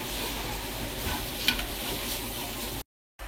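Chopped coriander and garlic are stirred into a raw meat mixture, a close, soft, wet squelching and scraping that runs steadily before cutting to a brief silence near the end.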